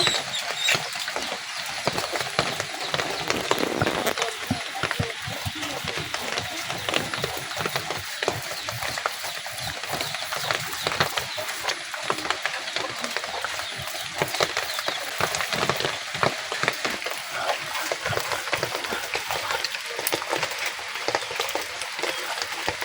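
Garlic is ground by hand on a stone grinding slab, producing a dense, continuous run of gritty rubbing and knocking strokes up close with no speech.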